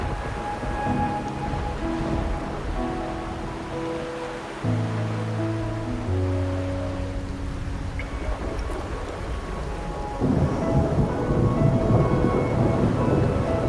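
Rain pours steadily in Wuthering Waves while a low rumble of thunder rolls underneath, mixed with sustained musical tones, and the downpour swells louder toward the end.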